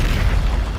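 A Bombarda spell blast in Hogwarts Legacy on PS5, a short, close, heavy boom with deep rumbling that fills the whole moment, with no voices over it.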